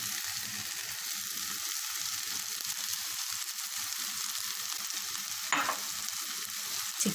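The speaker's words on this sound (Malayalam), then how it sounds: "ചിക്കൻ നന്നായി മസാലയോട് യോജിപ്പിച്ച് നല്ലതുപോലെ ഒന്ന് ഇളക്കി കൊടുക്കും" Chicken is stirred into masala in a pan, giving a steady low sizzle and fry with soft scraping stir sounds and a brief louder clatter near the end, with no talking.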